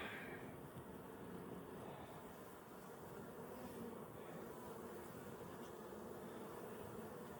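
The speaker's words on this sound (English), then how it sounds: "I still have a lot of bees in there." Honey bees buzz in and around a full beehive during a honey harvest, a constant low hum under faint wind noise with no talking.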